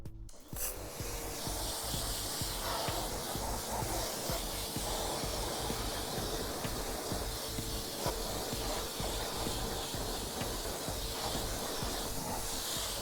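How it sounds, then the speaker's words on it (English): Wheel cleaner is sprayed steadily onto a car wheel during detailing, a continuous close hissing spray lasting many seconds with a faint underlying hum and no speech. "Now I'm going to apply the wheel cleaner"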